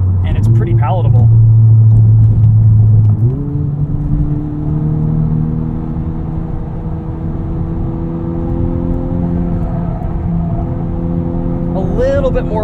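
A modified 2021 Honda Civic Type R drives on with a loud engine drone that shifts pitch as the revs change, then settles into a steady cruising hum while someone talks over it.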